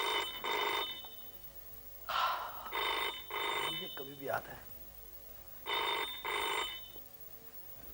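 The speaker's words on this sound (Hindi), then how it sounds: "साहब का फोन उठाओ" A telephone at a police station rings in repeated paired bursts with pauses between, fairly close and clear, while someone speaks briefly between rings.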